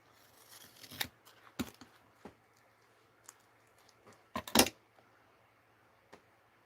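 Scissors cut through white fabric in a series of crisp, irregular snips, close and fairly quiet, with a faint steady hum behind them and a louder cluster of cuts near the end.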